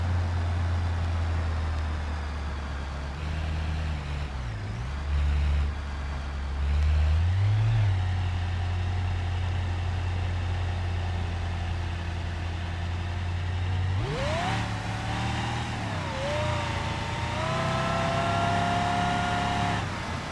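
A simulated car engine in the BeamNG driving game hums steadily while the car is driven, easing off mid-way, then revving up sharply with a rising whine near the end.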